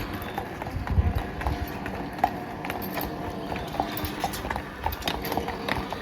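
Horse hooves clip-clop steadily at a walking pace near a castle in Germany, over a busy outdoor background hum, with a faint voice now and then.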